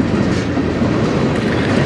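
A freight train carrying truck frames rolls past close by on the Strathroy Sub near Sarnia, a loud, steady rumble with rhythmic clickety-clack of wheels over the rail joints.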